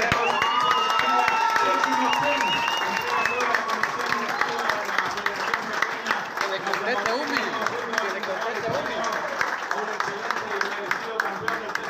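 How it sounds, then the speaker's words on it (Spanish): A crowd at a season awards event at Campo Largo claps and cheers loudly and steadily for a 2018 champion, with shouts and whistles rising over the applause and some voices mixed in. "Y fuerte el aplauso para él."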